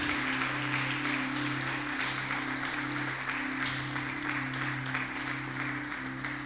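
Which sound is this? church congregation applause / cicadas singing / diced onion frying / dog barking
church congregation applause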